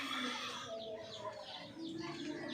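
Faint chirping and clucking from a group of young chicks waiting to be fed on a small Filipino poultry farm, with continuous overlapping calls heard from a short distance.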